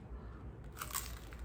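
A single crisp crunch as teeth bite into an air-fried vegetable spring roll, short and close, with quiet chewing after.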